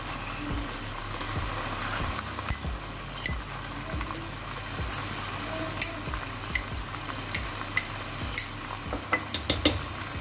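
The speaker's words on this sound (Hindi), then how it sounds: "और इसको हम मिक्स कर लेते हैं।" A spoon stirs garlic-ginger paste and water into daal mash in a pot, making repeated soft scrapes and light clinks at an irregular rhythm over a faint sizzle, close by.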